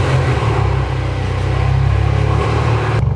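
A Volkswagen with an IS38 turbo tune rumbles loudly and close, its deep engine note holding steady with slight fluctuations throughout.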